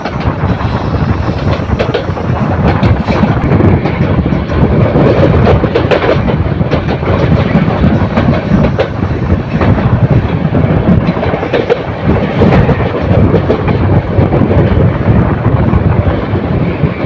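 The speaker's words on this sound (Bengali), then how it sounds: "মহানগর প্রভাতে এক্সপ্রেস ট্রেনটি বৈরপাতা জংশনে প্রবেশ করছে" The Mohanagar Provati Express entering Bhairab Bazar Junction on a curve: loud, continuous train rumble with wheel clatter and rattling carriages, a steady roar close at hand that persists without a break.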